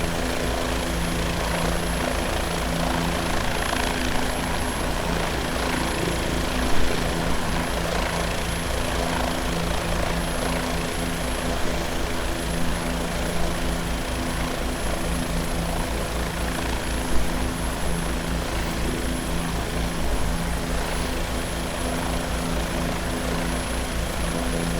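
Bell 407 helicopter in the X-Plane 11 flight simulator, a steady droning rotor and turbine whine with a constant high tone, running loud and unbroken throughout with no talking.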